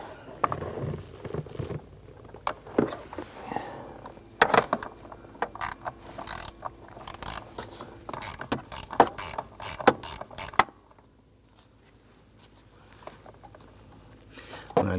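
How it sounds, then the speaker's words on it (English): A 1/4 inch ratchet with an 8mm socket turning out screws on a Ford Mustang, giving rapid close clicking bursts of the pawl in uneven spurts, then a quieter stretch with faint handling noise. "We use an 8mm socket and our 1/4" ratchet."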